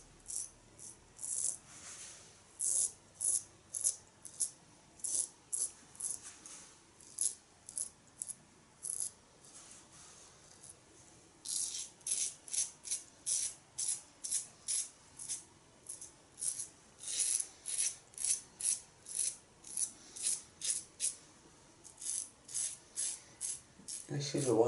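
A safety razor with a stainless blade scrapes against the grain in a third shaving pass, producing close, crisp rhythmic strokes in quick bursts separated by brief pauses.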